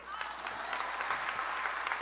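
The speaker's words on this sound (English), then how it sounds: "This is where y'all clap." Graduation audience applauds at a high school commencement ceremony for a classmate's honorary diploma, a dense, steady wash of many hands clapping at moderate distance, with faint voices mixed into the crowd.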